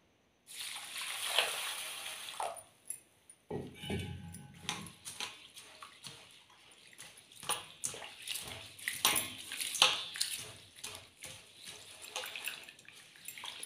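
Soaked fenugreek seeds and biri (black gram) being washed by hand in water for chakuli pitha batter, with repeated sloshing, splashing and rubbing strokes close by, some bursts louder, continuing steadily throughout.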